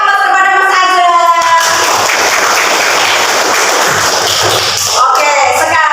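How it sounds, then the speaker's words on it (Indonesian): An audience in a classroom session applauds for Mas Azhar, a loud, sustained wash of clapping that swells after some opening voices and carries on for several seconds before talk resumes. "Beri aplaus kepada Mas Azhar."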